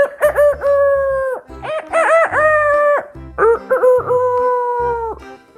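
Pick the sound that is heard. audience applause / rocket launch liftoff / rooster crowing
rooster crowing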